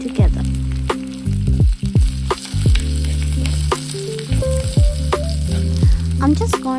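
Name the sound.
onions frying with curry leaves in pan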